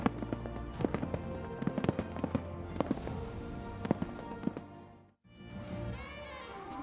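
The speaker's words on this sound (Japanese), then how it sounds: "色とりどりの花火が夜空を彩ります" Fireworks burst over a night sky at a city fireworks festival in Ota, Tokyo, a rapid run of crackling pops and booms from a moderate distance, then a brief hush before more rumbling bangs.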